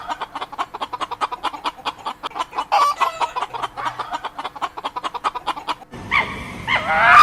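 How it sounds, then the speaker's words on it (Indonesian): A chicken clucks in a rapid, steady stream of short, close clucks, with a rooster-like crow breaking in partway and a louder squawking call at the end. "Chicken, ayam."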